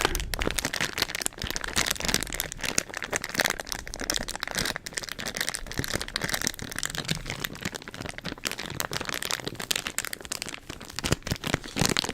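Plastic bags crinkle and crackle close to the microphone in a quiet ASMR recording, a dense, continuous rustle of sharp crackles with no talking.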